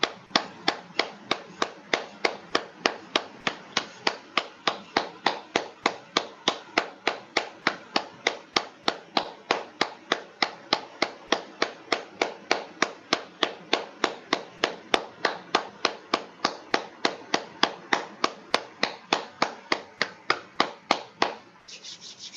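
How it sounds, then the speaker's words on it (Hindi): A group claps hands in steady, even unison at the close of a meditation session, about two claps per second for over twenty seconds at a constant level, with no talk. "क्लैपिंग करेंगे, ताली बजाएंगे।"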